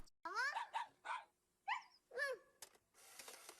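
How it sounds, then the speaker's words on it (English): Several close, fairly loud cartoon dog barks from the Japanese Wii game Dog Island's commercial, short bursts spaced unevenly with brief pauses, followed by a soft hissy tail. "The dog."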